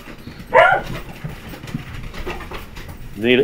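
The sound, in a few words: dogs barking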